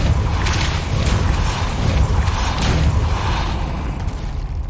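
A Depulso spell cast in Hogwarts Legacy lands as a dense, rumbling whoosh with a heavy low-end boom, sustained and loud throughout, with no one speaking.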